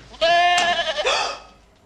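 A goat bleats loudly and close by, one drawn-out quavering cry that fades away, heard alone in a Czech comedy scene.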